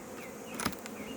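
Honeybees buzz at a hive after rain, a faint, steady drone with a brief louder swell as one passes close.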